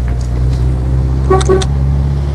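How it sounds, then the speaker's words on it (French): Horn of a 1960 Triumph TR3A sounding in two short honks close by, over a steady low engine idle. "Le klaxon qui fonctionne évidemment."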